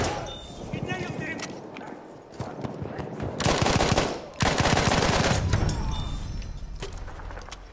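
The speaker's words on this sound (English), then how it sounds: "There's an enemy machine gun!" Bursts of enemy machine gun fire in a Battlefield 1 team deathmatch on the Sinai Desert map, rapid crackling volleys that come and go in loud surges with someone talking between them.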